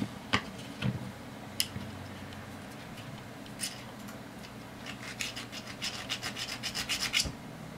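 Sandpaper scratching solder contacts on a computer motherboard, with soft close rasping and a few isolated scrapes, then a quick rhythmic series of short strokes toward the end, no talking.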